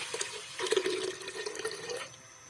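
Water poured over finely chopped ginger, garlic and onion in a home kitchen, a faint, short gurgling splash with a brief swell of running liquid before it tapers off.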